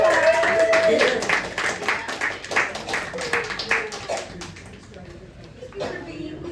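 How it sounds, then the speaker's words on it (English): Clapping from a small seminar audience at a senior living talk on healthy habits, fitness and nutrition, strongest at first and tapering off, with people talking over and after it. "Let's give Rachel a round of applause."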